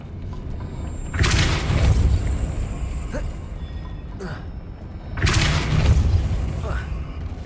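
Depulso spell cast in Hogwarts Legacy, heard as two loud booming whooshes, each a broad burst lasting over a second and separated by a few seconds of quieter game ambience.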